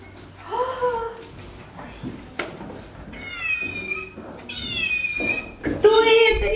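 A cat at a cat show meows several times close by, drawn-out and rising, with short pauses between calls and quiet background noise.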